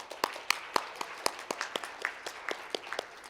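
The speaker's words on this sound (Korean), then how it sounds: "다시 한번 큰 박수 부탁드리겠습니다." A small, sparse round of applause for a presenter at an intellectual property symposium, a few distinct hand claps at a fairly quick, uneven rhythm, quiet and somewhat distant.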